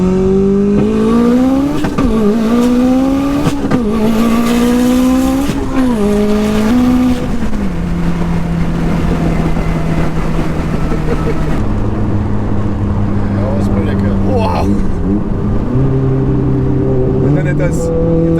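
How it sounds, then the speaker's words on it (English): Mitsubishi Evo X accelerating hard, engine revving loudly and climbing through gears with exhaust crackles and pops, close and continuous for the whole stretch; a voice is also present. "Some good backfires there."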